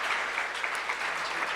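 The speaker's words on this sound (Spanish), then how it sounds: "Dale un aplauso fuerte al Señor." Loud applause from a church congregation, a steady dense clapping wash lasting a moment with no voices over it.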